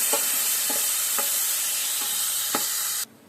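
Ar fish frying with turmeric and salt hisses steadily in hot oil while a spatula scrapes the pan in a few short strokes, close by, before the sizzle cuts off abruptly.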